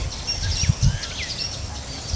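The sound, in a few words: birds nesting in coconut palms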